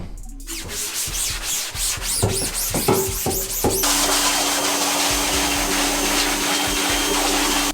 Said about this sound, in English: So just gonna get one more scrub down.